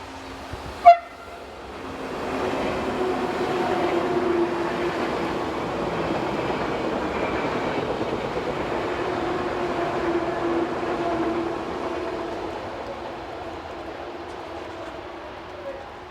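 Swiss train 500-038 on the Gotthard south ramp, a sharp horn toot at the start followed by a steady rumbling pass that swells, holds for several seconds, then slowly fades into the distance.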